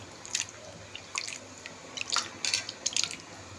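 Intermittent wet sloshing and dripping of rice grains being rubbed and rinsed in a bowl of water, in short irregular bursts with no talking.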